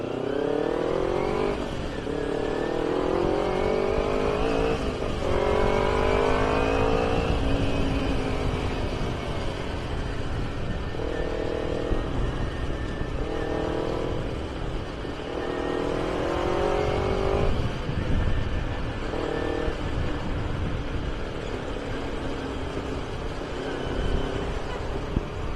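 A carbureted Kawasaki Ninja 250 with a racing exhaust is revved repeatedly, each throttle pull sweeping the engine note up and back down in a series of loud, close rasping bursts over a steady idle.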